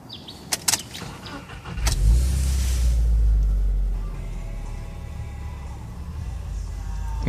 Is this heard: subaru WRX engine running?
yes